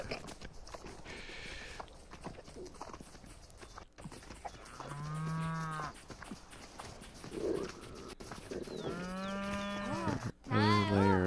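Cows in a video game let out two long, drawn-out moos amid soft clip-clop hoof sounds and ambient farm noise, with a sharper animal call at the very end.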